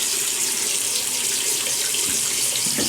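Tap water runs steadily into a sink to rinse off a razor, a continuous close hiss with faint splashing.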